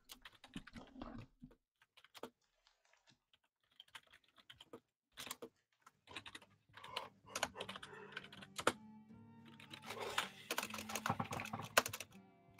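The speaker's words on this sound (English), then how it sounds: "we can hear like your keyboard and your chair" Nearby computer keyboard typing comes in scattered bursts, then turns dense and continuous, with occasional chair creaks and shuffles mixed in and no speech.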